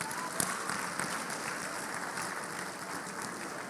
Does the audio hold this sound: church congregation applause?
yes